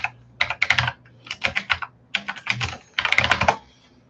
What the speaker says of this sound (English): Sorry for the loud keys. I have a mechanical keyboard.